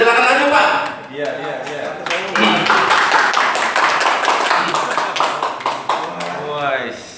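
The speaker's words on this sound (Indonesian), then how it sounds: "Tepuk tangan buat Badarul" Audience applause for Badarul at a business table talk event in Probolinggo, a crowd clapping steadily for several seconds under a voice speaking over it.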